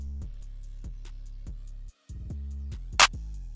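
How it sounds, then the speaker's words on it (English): A looping FL Studio beat with deep bass hits and sharp claps landing on a steady, simple pattern, with a brief dropout midway and a bright burst near the end. "just a basic clap pattern that sounds like this."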